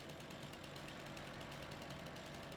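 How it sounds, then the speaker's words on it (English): A chainsaw cuts into a tree in the Farming Simulator 25 video game, giving a steady, faint buzzing drone with a low rumble that runs unbroken throughout, with no talking. "Let's cut down our first tree."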